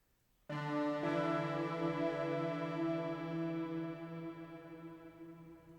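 A bright, sustained synth chord stab enters abruptly and swells once more, rich in harmonics, ringing steadily and slowly fading, with no voices.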